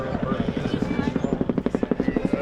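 A single-engine Cobra or Huey helicopter beats out a steady rotor chop, the thumping pulses growing sharper and more distinct as it nears, with a voice talking over it.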